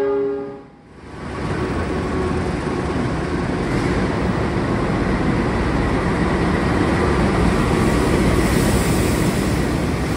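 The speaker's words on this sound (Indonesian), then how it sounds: "dari arah sana ada kereta api Turangga" The Turangga train, running from Surabaya Gubeng to Bandung with first-generation stainless steel carriages, passes through Solo Balapan station; a brief horn gives way to a loud, sustained roar of rolling wheels and carriages close by.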